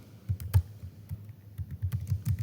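Steady typing on a computer keyboard while entering C++ code, a close, fairly quiet run of soft key clicks in an uneven rhythm with brief pauses and no talking.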